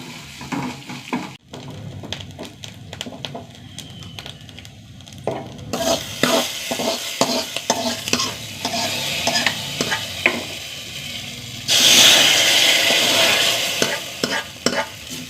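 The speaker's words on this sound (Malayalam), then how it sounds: "തേങ്ങ ഒന്ന് മൂത്ത് വരട്ടെ." Grated coconut roasting in a pan with mustard seeds, dried red chilli and curry leaves for erissery, stirred with repeated scraping strokes over a soft sizzle that grows louder near the end.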